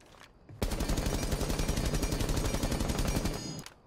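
A low-recoil gun in Rainbow Six fires a long rapid automatic burst of about three seconds, loud and close, with evenly spaced shots and no talking over it.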